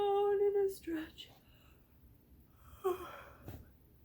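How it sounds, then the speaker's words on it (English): A person gives a big yawn while stretching: a drawn-out voiced yawn that slides downward in pitch, followed by soft breathy exhales and a few quieter breaths, close to the listener. "give me a big yawn and a stretch"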